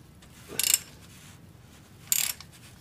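Ratchet wrench with a 5/8 socket loosening long bolts on an mk7 HPA mount: two short, close bursts of rapid clicking about a second and a half apart over quiet background.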